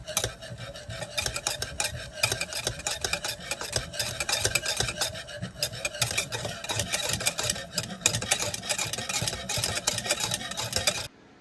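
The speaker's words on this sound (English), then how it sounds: "mix all the ingredients together until combined." Chocolate almond marshmallow cake ingredients are stirred together in a bowl, producing a steady close scraping and swishing mixing sound that runs continuously for about eleven seconds, with no talk.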